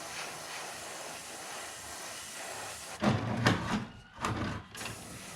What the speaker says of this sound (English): I'm gonna spray the top side and leave the bottom open.